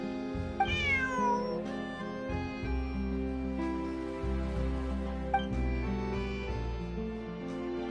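Cat in Genshin Impact meowing in a few clear, close calls over a steady game soundtrack, with no voices.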